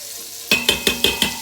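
A utensil stirs melted butter in a pot where pork chops have just cooked, making five quick, evenly spaced scraping clunks over a light sizzle after a brief near-silence.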